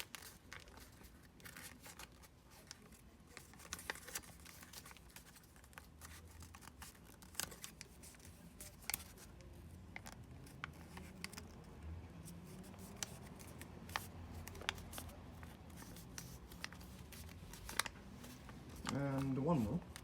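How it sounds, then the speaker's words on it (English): Origami paper is folded and creased by hand, giving faint, close crinkles, snips and soft taps scattered over twenty quiet seconds, with a louder rustle near the end and some soft talking in between. "fold the paper up"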